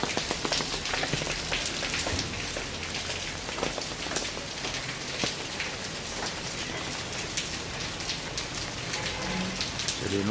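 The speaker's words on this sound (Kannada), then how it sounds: "ಮಳೆ ಹನಿ ಶಬ್ದ." Steady rain falls on surfaces outdoors during a cold, stormy spell, a dense continuous patter of close raindrops with no pauses and no voices.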